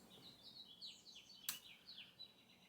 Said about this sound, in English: Do you hear the birds in the background?